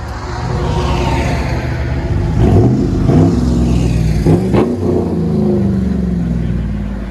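A 2011 GMC Sierra 1500 pickup with a 5.3L V8 and dual straight-pipe exhaust, Texas edition, revs hard several times. It gives a loud, close, throaty roar with rising and falling surges over a constant rumble.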